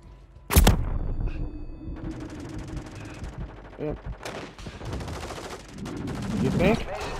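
Mortar strike in Call of Duty: a sharp blast, then scattered rattling gunfire and thuds landing at mid distance, with muffled voices and game sounds mixed in.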